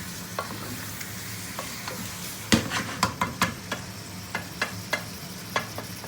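Onion and chicken masala for chicken biryani frying over high flame in a pan, a steady close sizzle broken by a run of sharp spoon scrapes and knocks against the metal, with no voices.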